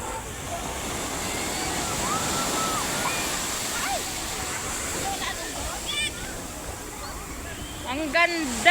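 Steady wash of surf rolling in, fairly distant and even, with voices and shouts rising over it toward the end.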